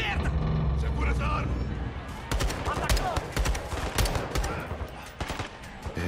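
Rapid automatic gunfire and single shots crackle through a firefight in the Call of Duty Modern Warfare 2 campaign, bursts dense and loud over a busy battle bed, with voices talking amid the shooting.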